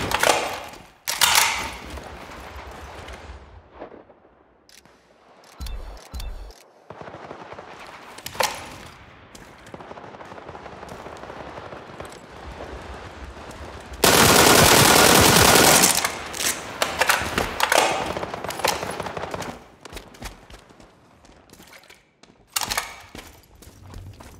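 A suppressed Beryl 762 rifle fires in World War 3 gameplay, with muffled bursts, mechanical clacks, reload rattles and a long sustained burst of automatic fire, all loud and close.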